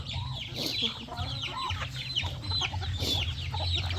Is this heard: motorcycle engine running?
no